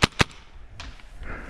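Two quick, sharp pops of a magazine-fed paintball gun ring out in rapid succession during an outdoor game, followed by fainter distant shots and rustling.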